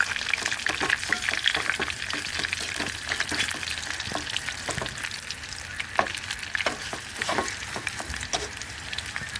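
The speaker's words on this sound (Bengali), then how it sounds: "এখন এগুলো ভালোভাবে ভেজে নিব মশলা করে।" Battered cauliflower pakoras sizzle and crackle in hot oil in a pan, a steady bright frying hiss with frequent small pops and occasional stirring clicks, close and fairly quiet with no talking.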